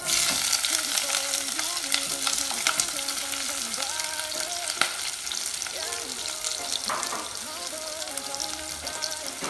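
Spice paste fries in olive oil for a mutton curry with chana dal, giving a steady, loud, dense sizzle throughout with frequent stirring scrapes and clicks, and no talking.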